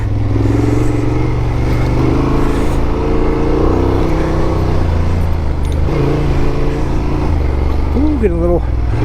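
Honda Transalp motorcycle engine pulling hard on a dirt trail, a steady loud drone with rising pitch under acceleration, wind buffeting throughout, and a voice speaking near the end.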